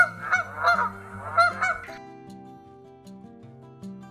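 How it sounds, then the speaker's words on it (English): A Canada goose gives a series of loud, close honks in quick bursts, then the calls stop and a soft, sustained musical background carries on alone. "Canada goose."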